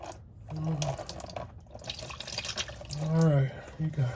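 Fluid draining and splashing from the transfer case of a 2010 Infiniti QX56 during service, a close watery trickle and spatter heard under someone talking.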